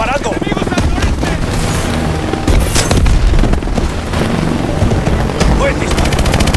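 Gunfire and explosions from Call of Duty Advanced Warfare: loud sustained machine-gun bursts and heavy booms crowd together, with shouted voices mixed in among the battle.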